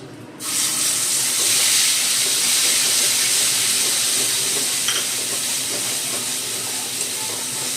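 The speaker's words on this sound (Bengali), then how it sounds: "এই তেলের মধ্যে কালো জিরে ফোড়ন দিয়ে দেব। দিয়ে দেবো সর্ষে বাটা।" Nigella seeds and mustard paste hit hot oil and burst into loud, sustained sizzling, a bright steady hiss that starts abruptly and carries on close up with faint crackles.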